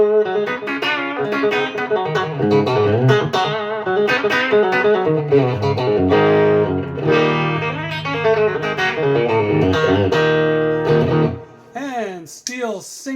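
Telecaster electric guitar played through a Quilter amp into a Headrush powered cab, ringing out steady chords and notes with a slightly driven tone for about eleven seconds before trailing off into a few sliding, bending notes.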